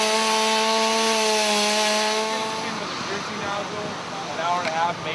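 Firefighters' chainsaws rip through a burning building's structure for ventilation, a loud continuous engine whine with steady harmonic tones that breaks into rougher, gritty cutting noise partway through.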